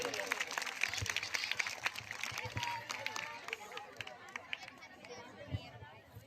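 Applause and crowd chatter from an audience at a school annual function, a dense patter of claps that starts strong and gradually thins out, with murmuring voices mixed in throughout.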